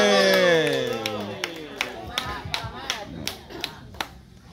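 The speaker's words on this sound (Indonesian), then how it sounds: "Tepuk tangan." Applause breaks out from the audience at a women's quiz competition held for an Indonesian Independence Day celebration, a short burst of claps that thins into scattered, separate hand claps and fades out.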